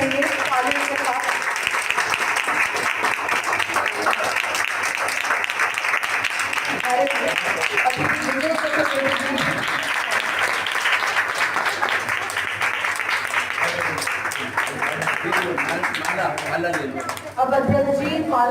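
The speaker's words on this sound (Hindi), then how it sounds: "तालियां रुकने नहीं चाहिए।" Audience applause fills a hall at a ceremony for Louis Braille's 216th birth anniversary held by a blind persons' association. Dense, sustained clapping runs steadily throughout while someone talks over it.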